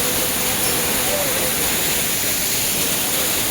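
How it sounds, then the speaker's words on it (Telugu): A mountain waterfall beside the Kedarnath trek roars as a steady, loud, broadband rush that fills the whole span without a break. "ఇంకొక వాటర్ ఫాల్."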